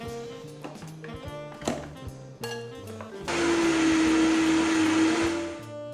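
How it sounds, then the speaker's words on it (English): A kitchen blender whirs loudly through chocolate banana coffee cake batter, starting in after a few seconds of clatter and small knocks and holding a steady, dense motor roar to the end. "now we're going to blend this up in the blender."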